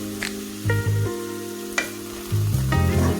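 Cooked greens get stirred in a hot pan with a soft, continuous sizzle and a few brief scraping strokes, set against background music.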